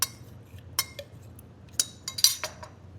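Watermelon being smashed with a whisk or spatula for a summer mocktail, heard as a few scattered taps and squelchy knocks of utensil against bowl, clustered near the end, over a low steady hum.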